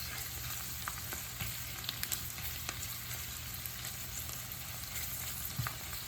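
Frozen bitter gourd (ampalaya) fries with egg and tomatoes, giving a steady close sizzle with scattered pops and stirring clicks over a low background hum.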